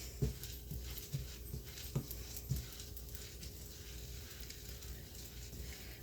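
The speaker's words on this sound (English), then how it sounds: "I'm just going to keep stirring them" A spoon stirs food in a hot pan with the heat just switched off: a steady soft sizzle runs throughout, broken by a few sharp scraping taps near the start, with no one speaking.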